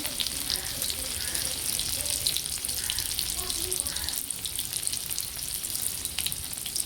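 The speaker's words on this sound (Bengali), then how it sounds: "পেঁয়াজটা একটু ভাজা হয়ে যাবে" Onions fry in hot oil with a steady, crackling sizzle that runs without a break, with faint clinks in the background.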